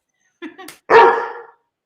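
A voice imitates a dog barking during a celebration of a goal while watching an NHL playoff game, Colorado Avalanche against St Louis Blues: a short yip followed by one loud, full bark, close and alone.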